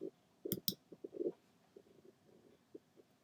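Two sharp, close computer mouse clicks near the start, followed by faint low rumbling and soft handling noises in a quiet room.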